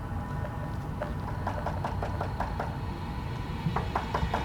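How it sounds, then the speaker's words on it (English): Repeated knocking on a door, a series of sharp raps in uneven clusters over a steady low engine-like hum, with no talking. "We would have a complex security guard just start knocking on doors"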